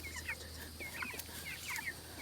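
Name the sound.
meat chickens clucking while being moved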